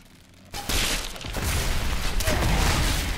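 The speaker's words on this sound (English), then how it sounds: "Throw some grenades at them." Grenades burst in the Diablo 3 beta: a sudden loud blast followed by a sustained, roaring wash of explosive noise and combat clatter that continues to the end.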